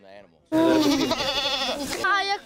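A loud, wavering goat bleat close up, followed by a second shorter bleat, with a faint call before.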